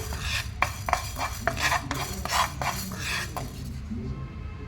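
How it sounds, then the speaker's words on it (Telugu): Dry fenugreek seeds rattle and scrape in a pan as they are dry-roasted and stirred, a steady, close scratching with quick rhythmic strokes. "ఇప్పుడు ఒక కళాయి పెట్టుకొని ఒక చిన్న స్పూను మెంతులు వేయించుకోవాలి"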